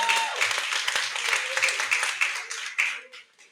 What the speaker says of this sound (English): So let's give this a round of applause.